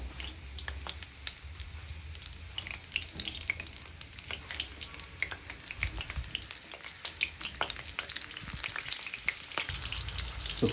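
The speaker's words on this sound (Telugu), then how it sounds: "సో పచ్చిమిర్చి ఇలా ఫ్రై చేసుకోండి, ఇలా వేయించుకుంటే చాలా బాగా వస్తుంది" Green chillies fry in hot oil as a garnish for gobi 65. A steady, close sizzle and crackle runs throughout with no voices, with occasional faint stirring clinks.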